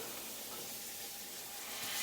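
Steady, soft hiss of water sizzling and steaming in a hot pan while searing octopus, continuous and close.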